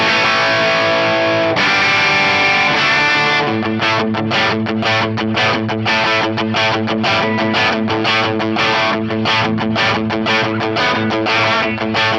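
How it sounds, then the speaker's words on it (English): Distorted electric guitar through an FM3 amp and cab model with delay plays sustained chords, then a rhythmic chugging riff with echoing repeats trailing behind, loud and up close. "We'll hear just the amp cab and delay"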